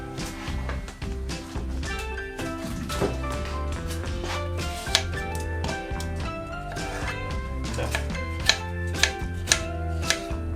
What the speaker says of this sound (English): you cut up some cucumber